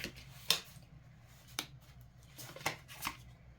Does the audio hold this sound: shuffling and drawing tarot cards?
yes